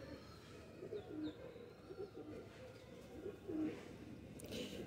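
Teddy pigeons in a loft coo softly in a few low, repeated phrases against steady background hum, with faint higher bird chirps mixed in.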